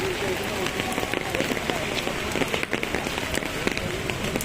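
Heavy rain pours outdoors on a rainy Friday after prayers, a dense, steady hiss of drops with sharp patter on surfaces throughout.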